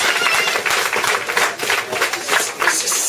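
A church congregation applauds in a steady, dense wash of hand claps that swells and dips slightly without pause, moderately loud and filling the room, with no voices rising above it.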